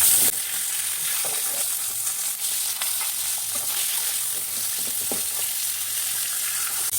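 Catla fish heads fry in hot oil with a constant, even sizzle and occasional faint clicks of a utensil, with no voices.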